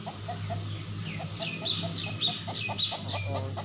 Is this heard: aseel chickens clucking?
yes